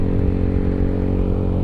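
A stock, unmodified old Yamaha Aerox scooter engine droning loudly and steadily while riding, with a constant low rumble and faint clatter and no talk.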